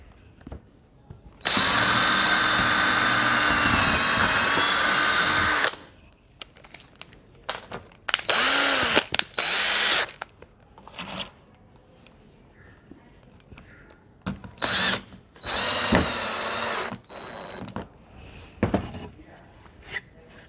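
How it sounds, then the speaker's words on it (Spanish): A power drill bores a pilot hole in a wooden board in several bursts, one long steady whine followed by shorter spurts, with quiet handling noises between them and no speech. "Si yo ahora hago un taladro guía previo"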